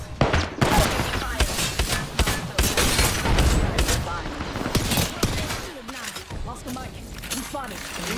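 Apex Legends gameplay with dense, loud bursts of automatic gunfire and rapid shots throughout, mixed with in-game voice callouts and effects.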